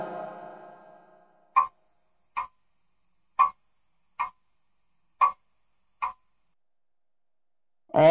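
A watch ticks six times in sharp, evenly spaced clicks, close and clear against silence, after a short fading tone at the start.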